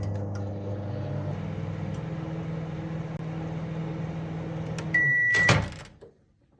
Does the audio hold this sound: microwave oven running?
yes